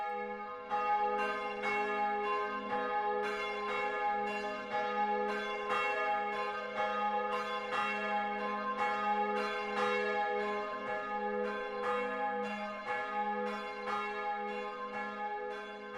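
Church bells peal continuously in a steady rhythm for the whole stretch, loud and close, with rich ringing overtones and no voices.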